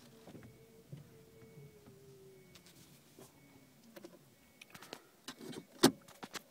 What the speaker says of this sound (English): It's a small slight motor whine.